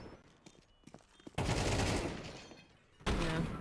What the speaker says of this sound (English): Such clean shooting out of the AWP.